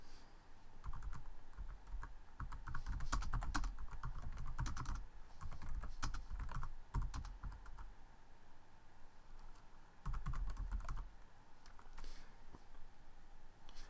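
Close, fairly quiet typing on a computer keyboard comes in irregular bursts of rapid clicks separated by short pauses.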